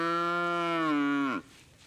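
A single cow moos in Zimbabwe, one long, loud, steady low call held close by for over a second before falling away abruptly, leaving faint background.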